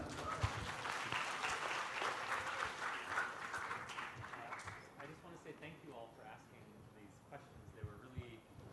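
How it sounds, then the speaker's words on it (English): An audience at a film screening with an international filmmaker breaks into dense, sustained clapping that fades after about four seconds, followed by a person talking over scattered leftover claps. "Together give applause to the questioners."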